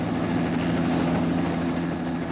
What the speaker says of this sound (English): This is the Westland Lynx, which on the 11th of August 1986 gained the world helicopter speed record for Great Britain